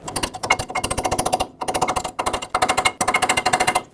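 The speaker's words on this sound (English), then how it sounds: "The chisel will not only spin it, but it will also break it free all around if it is stuck" An air chisel hammering a rusty, stuck track bar ball joint on a 2011-2016 Ford F-350, heard close up as loud, rapid rattling bursts broken by brief pauses.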